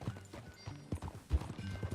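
A horse's hooves clip-clop in a steady walking rhythm in Red Dead Redemption 2, close and moderately quiet, with no speech.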